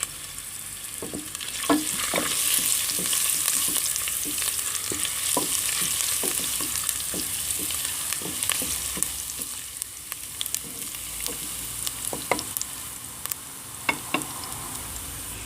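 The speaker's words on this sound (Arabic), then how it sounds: "دابا درتهم يتقلاو شويه هما الاولين." Chopped hot pepper and green ginger fry in a pan with a steady, close sizzle, punctuated by repeated clicks and scrapes of stirring throughout.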